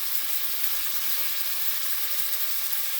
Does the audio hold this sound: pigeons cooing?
no